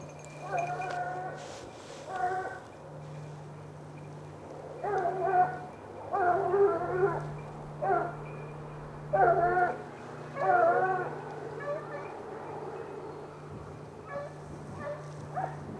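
Hunting dogs bay in repeated bursts of drawn-out, howling cries during a wild boar hunt in the wild Auvergne countryside. The calls come in short clusters with pauses between them over a steady low background hum.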